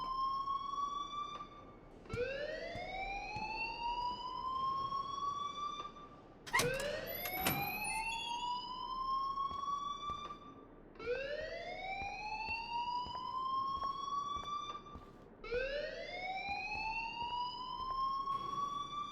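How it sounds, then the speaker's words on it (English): A school alarm in the game Life is Strange, a loud rising electronic siren sweep repeating four times at regular intervals, each climbing then holding, with a brief clatter in between. "please turn off that alarm since that's your job"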